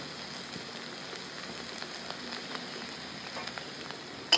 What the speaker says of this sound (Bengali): এটাকে আবার একটু ভেজে নেব ভালো করে।